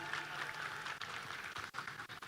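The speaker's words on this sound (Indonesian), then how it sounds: "Tepuk tangan sekali lagi buat kita semua yang ada di sini" Audience applause fills a hall at a youth leadership forum, a steady, dense patter of many hands clapping together, fairly faint and continuous with a few sharper claps near the end.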